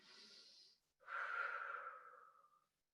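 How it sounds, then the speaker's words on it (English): A person draws a long breath in through the nose during Misogi training, following a shorter exhale, close and clear with no talking. "Bring it with some breathing."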